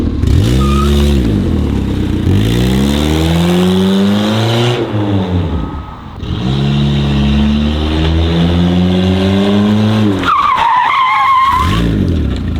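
A car spins reverse donuts with a loud engine that revs and falls in repeated cycles while the tires skid throughout, and a sharp squeal rises near the end.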